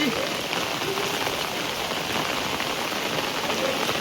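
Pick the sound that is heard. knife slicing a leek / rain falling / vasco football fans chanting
rain falling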